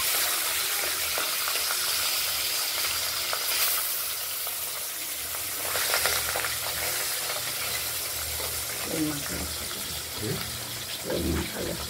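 Pabda fish, rubbed with a little raw oil, sizzles steadily in hot oil in a home kitchen. The hiss is loud and continuous, with a few sharper crackles and pops later on.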